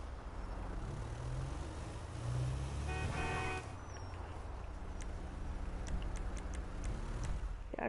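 A fast, flashy car drives past outdoors, its engine and tyre noise swelling as it comes near and then fading, over steady background road rumble.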